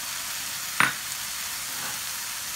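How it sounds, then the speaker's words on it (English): Chopped tomatoes frying in a pan for paneer bhurji give a steady, close hiss of sizzling, with one brief sharp clink of a utensil. "They have been frying for 5 minutes now."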